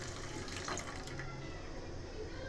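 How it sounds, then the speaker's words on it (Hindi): Milk poured into a pan, a steady continuous liquid rush like running water, moderately loud and unbroken throughout, with no talking. "अब मैं इसमें ऐड कर दूँगी दूध।"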